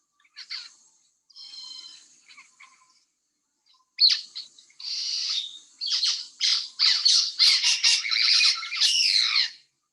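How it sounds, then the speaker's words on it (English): White-fronted parrots squawk and chatter in a close, loud flock, harsh bursts coming in quick irregular runs that grow denser and more continuous toward the end, with no other sounds around them. "If parrots are around, they're usually pretty noisy."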